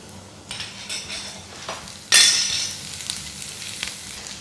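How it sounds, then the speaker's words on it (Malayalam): Chopped garlic sautéing in butter in a pan over low to medium flame for a butter garlic egg dish, a steady close sizzle with a louder burst of frying partway through and light stirring clinks. "ഇത് നന്നായിട്ടൊന്ന് സോട്ട് ചെയ്യാം നമുക്ക്."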